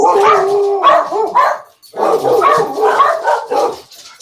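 Dogs bark in repeated bursts close by, loud overlapping barks with brief whines, pausing once before the barking resumes.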